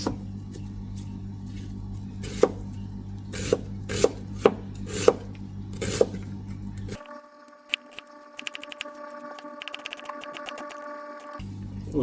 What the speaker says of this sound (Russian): А мы нарежем с вами лук. Лук нарежем четверть кольца.